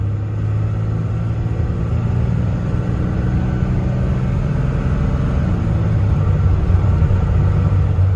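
A Dodge pickup with a 24-valve Cummins diesel rumbles steadily while driving, a loud, low, continuous engine drone heard from inside the cab without talk.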